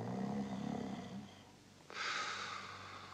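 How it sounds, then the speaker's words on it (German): A man snores in a radio play, one slow, rumbling inhale followed by a breathy, hissing exhale, faint and close in a quiet room. "Der Herr Sesemann fängt ein bisschen an schnarcheln."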